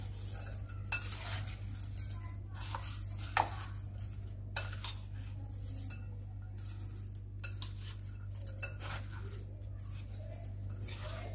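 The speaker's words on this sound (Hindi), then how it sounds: "अब मैं इसमें ये जो मैंने फ्राई किया मैं डाल के फिर इसे" Fried bread croutons tossed into a Shirazi salad with utensils, soft repeated clinks and scrapes of metal against a bowl over a steady low hum, no talking.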